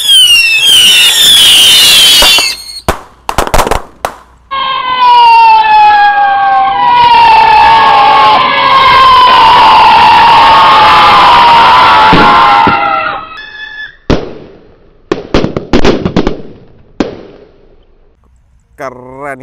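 Gold Dragon Roman candle rocket fireworks launch with loud close crackling bursts, then a long shrieking, whistling tone lasting several seconds, followed by scattered sharp pops and bangs as the effects fade.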